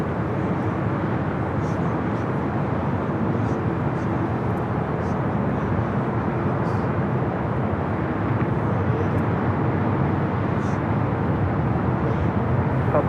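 An airliner takes off from runway 24 left at LAX, a steady, loud broadband jet roar that holds for the whole stretch while people talk faintly in the background.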